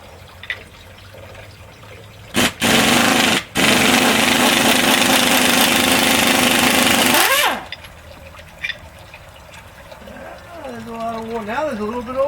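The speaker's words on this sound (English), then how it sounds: "Air tools make this pretty much an easy thing to do." A pneumatic air tool runs on bolts during the teardown of a Mopar 400 engine, giving two loud, close bursts: a brief one, then a sustained roar of about four seconds, with quieter shop noise and a voice around it.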